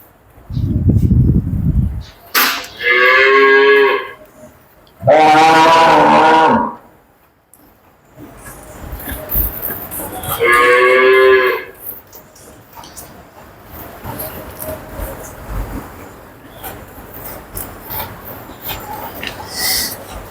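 A dairy cow moos loudly several times at close range, long deep calls separated by pauses, with rustling and low farmyard noise in between.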